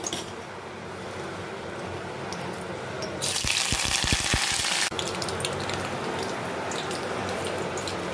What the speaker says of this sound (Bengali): এবার কড়ার তেলে শুকনো লঙ্কা আর কারি পাতা দিলাম।